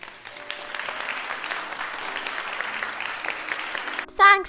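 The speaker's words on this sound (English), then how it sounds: "Thanks for the applause." An audience applauds a guest author on a radio interview show with a steady, close, dense patter of clapping that ends abruptly as a brief voice cuts in.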